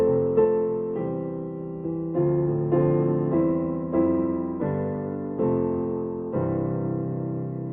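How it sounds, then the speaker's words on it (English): A keyboard plays the phrase of Twinkle Twinkle Little Star in steady chords, closing on a plagal cadence from IV to I; about nine evenly paced chord strikes ring out alone, each decaying before the next. "So let's end our phrase of Twinkle Twinkle Little Star with a plagal cadence this time."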